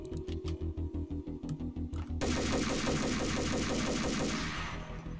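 Rapid pistol gunfire from the video game Max Payne cracks out in a fast rhythmic burst, then gives way to a dense, continuous roar of overlapping shots, all loud and close.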